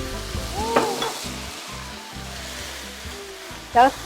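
Paella sizzles in a pan with scraping stirs as vegetable broth is added, a steady frying hiss close by and a short clank of a utensil near the end.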